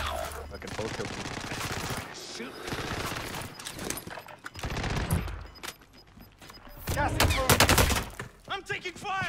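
Gunfire in the Warzone game, with bursts of loud, close shots and rapid automatic fire in several clusters, interspersed with quieter stretches while players talk over the action.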